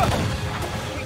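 Ship cannons fire in a naval battle in Assassin's Creed Freedom Cry, dense overlapping booms and rumbling blasts over a continuous low roar, with someone shouting over the gunfire.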